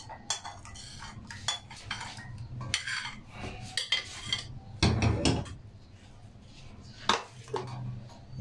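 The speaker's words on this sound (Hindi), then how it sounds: "यहाँ पे बर्फ क्यूब डाल लेंगे जी" Ice cubes drop into a mango and mint sharbat, clinking and knocking against the glass in a scattered series of sharp, close taps with quieter rattles between.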